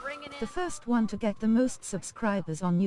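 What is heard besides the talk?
No everyday noises stand out.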